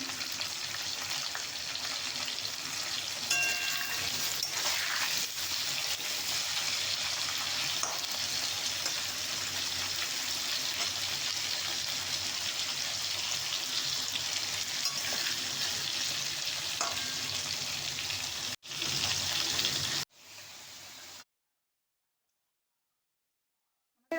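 Potatoes frying in a pan with turmeric and salt, a steady close sizzle with occasional stirring clicks, continuing for a long stretch before fading and cutting to silence at the end.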